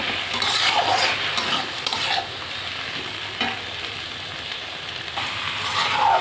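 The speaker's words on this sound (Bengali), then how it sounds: "বাকি বড়াগুলো আমি এইভাবে আবার ভেজে নেব" Banana fritters frying in hot oil, a bright, continuous sizzle with stirring and occasional utensil scrapes, close and steady with a brief dip in intensity partway through.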